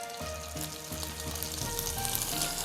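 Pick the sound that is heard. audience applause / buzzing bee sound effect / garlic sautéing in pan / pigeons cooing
garlic sautéing in pan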